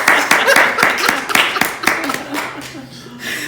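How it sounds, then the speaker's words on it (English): A small live in-person podcast audience clapping, a short burst of close, sparse handclaps that thins out and fades, with a voice talking and a chuckle near the end. "Cue clap."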